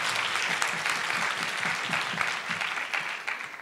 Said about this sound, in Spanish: Un aplauso hasta Óscar allá en el México DF.